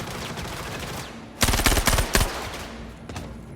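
Automatic gunfire in the video game Star Citizen, a loud rapid burst of about a dozen shots lasting under a second, followed by a couple of fainter single reports over a steady background hum.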